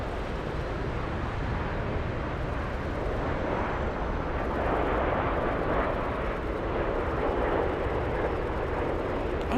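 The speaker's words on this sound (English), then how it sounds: "let's go for the 787. We have a 787 Lufthansa." Lufthansa Boeing 787-9 Dreamliner arriving at Frankfurt airport on a flight inbound from Rio de Janeiro, a steady broadband jet roar holding loud and constant throughout with no talk over it.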